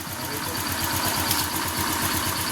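Honda Click scooter engine running smoothly after a tune-up, a steady, even, close idle with a rapid regular pulse and no audible knocking.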